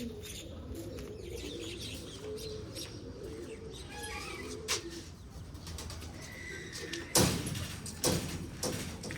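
Pigeons coo in soft, repeated low calls close by, mixed with light chirps and a few sharp knocks and rustles near the end, with no one talking.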